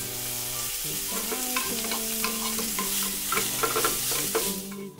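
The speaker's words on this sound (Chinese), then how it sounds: "首先，我们来煎一块小面包。" A toy play kitchen stove plays an electronic frying sound effect as small pretend bread is cooked, a steady sizzle with a looping musical tune running through it, close and clear.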